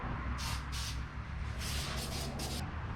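Short hissing bursts of a spray gun painting a car's front clip in a makeshift paint booth fire in a quick series of four or five pulses over a low, steady background rumble.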